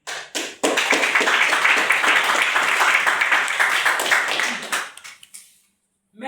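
A crowd applauding to welcome a speaker onto a stage at an inspirational talk event, brief claps at first, then several seconds of loud dense clapping that tapers off into silence.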